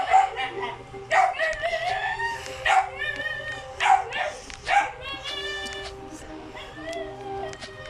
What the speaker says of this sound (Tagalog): maingay talaga aso ko